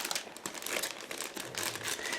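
A plastic bag holding grey plastic sprues from a 1/48 scale Eduard P-400 Airacobra model kit crinkles and rustles steadily at close range, with no talk.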